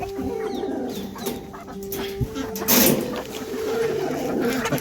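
Ten black roosters kept in covered cages cluck and coo at close range, with soft overlapping calls and rustling, and a brief louder burst near the middle.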